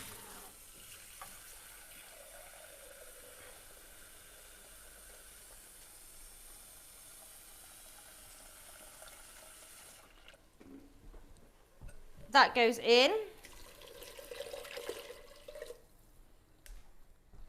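Water is poured into a pressure cooker while cooking black chana masala. A soft hiss of flow runs under a quiet kitchen background, then a louder splashing burst. A voice speaks briefly.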